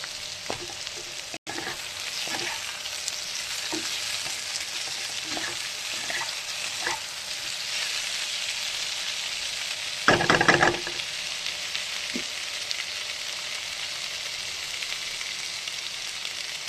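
Tomatoes hit hot oil in a frying pan for a steady, close sizzle that runs throughout, with a few light utensil knocks and a brief louder burst of crackling partway through.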